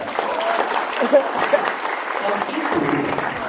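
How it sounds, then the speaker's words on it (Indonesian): A seminar audience applauds in a broad, continuous wash of clapping that runs the full few seconds, with a voice speaking over it. "Tepuk tangan dulu untuk render."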